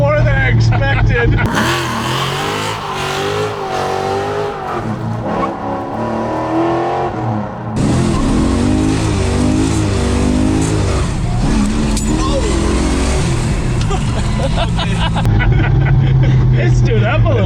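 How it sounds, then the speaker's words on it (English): A 1970 Dodge Super Bee roars through a burnout, its engine revving hard in loud sustained bursts with tire noise, while people talk over it. "That thing did a nice burnout."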